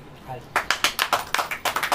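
A church congregation claps hands together during a prayer meeting, about a dozen sharp, fairly quick claps after a brief quiet lead-in, close and clear.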